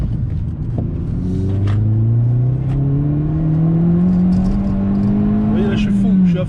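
Opel Astra OPC with a 180 hp engine pulled hard at full throttle, a loud sustained engine note climbing steadily in pitch under someone talking, with some tyre and road rumble.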